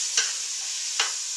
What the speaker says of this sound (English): I am going to saute these vegetables up about 5 minutes.